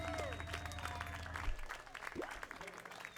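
An outdoor concert crowd applauding the band at the close of their set at a Cherry Days festival, a short burst of clapping mixed with music and voices.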